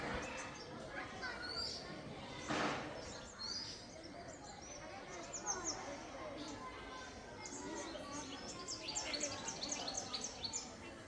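Small birds chirp faintly at about 6:30 in the morning from a house rooftop, giving scattered thin calls with a brief burst toward the end over quiet background noise.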